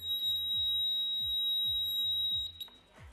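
A Sonitron SC series piezo buzzer holds a steady, pure high-pitched continuous tone, fairly quiet, while low rhythmic thumps repeat underneath.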